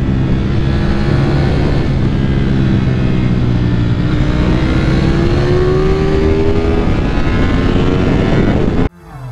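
A Ducati Panigale V4 S motorcycle engine held at high revs, producing a loud, continuous, rising whine that climbs steadily in pitch for about nine seconds before cutting off abruptly.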